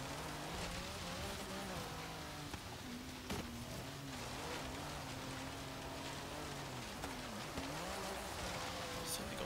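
A 1990 Mercedes-Benz 190E Evolution II in Forza Horizon, fitted with off-road suspension and tyres and driving all-wheel drive over rough ground. Its engine note rises and falls quietly beneath a steady wash of tyre and splash noise.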